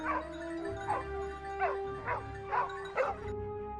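Hunting dogs tracking a wild boar give a steady series of about six yelping barks and whimpers at an even rhythm, set against a droning musical background.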